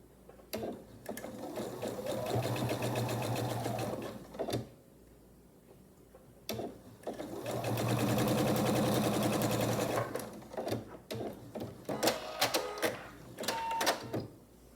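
A sewing machine stitches quilt block pieces in two long, steady whirring bursts, close by, separated by pauses filled with small clicks and handling noises of fabric and pins.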